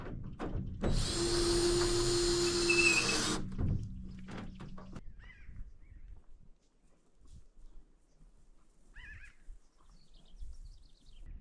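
A power driver runs screws back down into a metal garage roof in one loud, sustained burst lasting a couple of seconds, followed by faint knocks and scattered small sounds against a quiet outdoor background.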